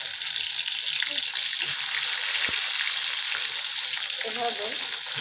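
Eggplant slices fry in hot oil, giving a continuous close sizzle at a steady level, with a faint voice murmuring briefly near the end.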